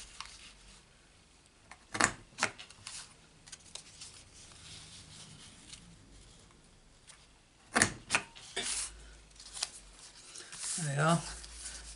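A Stampin' Up trio punch rounds off paper card corners: a few sharp close clicks and snaps in two bursts, separated by quieter rustling and handling of card.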